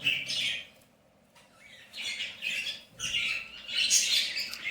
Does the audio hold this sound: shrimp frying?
no